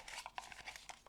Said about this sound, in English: So this is like all the seed ones, folded papers. I'm turning around, I'm shuffling a bit.